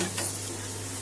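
Gujarati vaghar tempering with fresh curry leaves in hot oil, a short close sizzle with a faint clink of a spoon or pan at the start, no talking.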